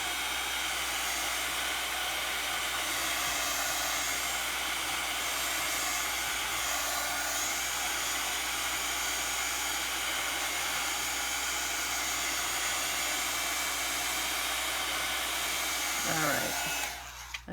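Hair dryer blowing steadily to dry the pages of an accordion journal, a loud continuous rushing roar lasting nearly the whole time before cutting off abruptly near the end.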